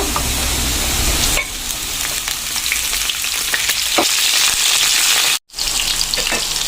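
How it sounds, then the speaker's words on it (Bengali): Eggplant pieces fry in hot oil over lightly fried potato, a loud, steady sizzle with occasional stirring clicks and one brief dropout of sound near the end. "এখন এর মধ্যে বেগুনগুলোকে ভেজে নেব।"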